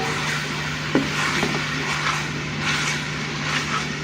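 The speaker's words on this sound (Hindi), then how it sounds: "अच्छी तरह से कीमे को हमने मिक्स कर लेना है प्याज के साथ।" Minced meat and onions stirred in a pan for aloo keema, a continuous frying sizzle with soft scraping strokes and a single brief clack near the start, steady and close, no voices.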